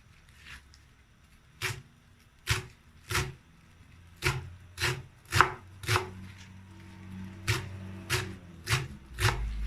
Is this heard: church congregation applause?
no